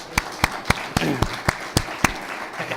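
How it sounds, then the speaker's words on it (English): Sparse, evenly spaced claps at a Latino Leaders issue hour on Capitol Hill, each sharp and distinct, as if only a few people in the audience are clapping for a chief of staff. "So let's give him a round of applause."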